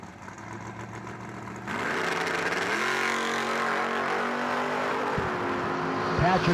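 A 1967 Camaro door car at a drag race grows from a rumbling idle into a loud revving launch, the engine note climbing and holding strong, with crowd and track noise behind.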